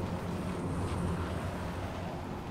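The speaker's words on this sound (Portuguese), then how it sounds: "Opa, tem um carro aqui nas minhas costas." A car engine in the video game H1Z1 rumbles close behind the player, a steady low droning motor noise holding at an even level for a couple of seconds.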